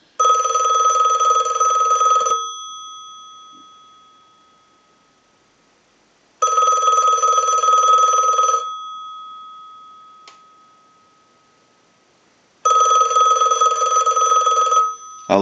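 A Monophone Model 40 telephone bell, rung by an analyzer during repair, rings in three long bursts separated by pauses of silence, each ring loud and close, with a lingering tone fading after it.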